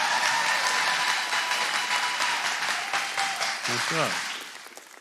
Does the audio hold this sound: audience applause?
yes